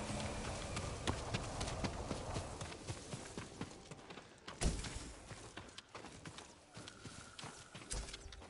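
Hooves of a farm horse clip-clop at a stable in a samurai video game, a steady broken patter of soft knocks under a dense ambient bed, with one louder thump midway.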